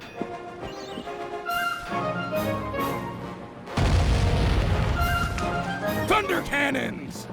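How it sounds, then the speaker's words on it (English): Thunder cannons firing in the Sly Cooper 3 pirate stage: a deep, sustained booming roar bursts in midway and rolls on loudly, layered over game music and voices. "Thunder cannons!"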